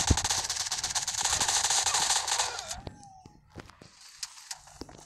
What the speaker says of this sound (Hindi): क्या भद्दी गन चला रहा है वीडियो में।